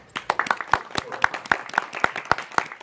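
A small audience at a Whinny City Ponycon 2022 convention panel claps in sharp, distinct, unevenly spaced hand claps, a scattered rhythm from a few people rather than a full ovation.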